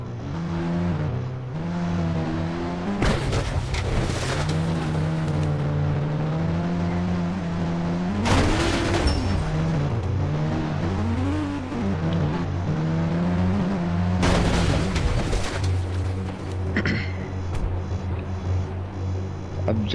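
Cars being driven and revved in a mobile open-world driving game with dinosaurs roaming, engine tones rising and falling in repeated surges throughout, loud and continuous with bursts of acceleration.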